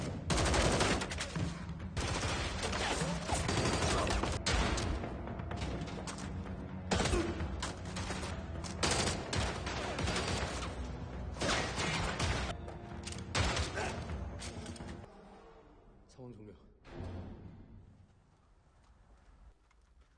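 Rapid bursts of gunfire fill a shootout scene in the 2022 film Yaksha: Ruthless Operation, loud overlapping volleys and single shots in irregular clusters, thinning out and fading to near silence at the end.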